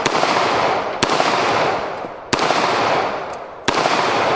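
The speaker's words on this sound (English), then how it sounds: "I thought we might want to get it out again and shoot it." Three loud, sharp CZ-75 pistol shots at a blue 2-liter bottle outdoors, evenly spaced about a second apart, each followed by a long, fading rumble.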